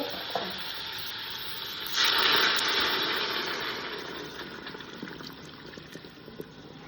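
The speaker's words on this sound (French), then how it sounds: "Et on va la recouvrir d'eau." Water is poured over a pork roast in a Ninja cooker, a rushing splashing pour that swells suddenly and then tapers into a softer bubbling hiss, close and steady.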